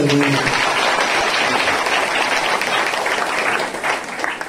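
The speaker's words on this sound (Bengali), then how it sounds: "জোরদার তালি বাজিয়ে" Loud, dense applause from a gathered church audience, sustained and close, beginning as a voice trails off and tapering slightly at the end.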